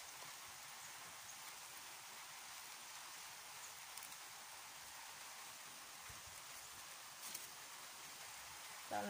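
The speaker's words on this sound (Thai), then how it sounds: "ตอนนี้ฝนเริ่มลงเม็ดหนาขึ้นแล้วนะคะ" Steady rain falling, a dense even hiss of drops throughout, faint and continuous, with a small knock near the end.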